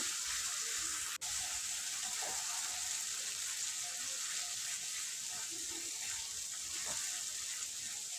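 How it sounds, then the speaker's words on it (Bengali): Spice masala for a mutton curry hisses in a pan with a steady, even sizzle, with no stirring strokes standing out, plus one brief click near the start. "মশলাটা বেশ সুন্দর করে কষতে হবে"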